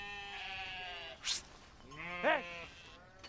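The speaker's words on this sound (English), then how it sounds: "Are those sheep?" Sheep bleating on a golf course, two distinct wavering bleats a second apart, moderately near, with a short shouted exclamation from a person between them.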